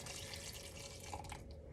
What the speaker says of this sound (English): And now you're going to add your butter and your milk.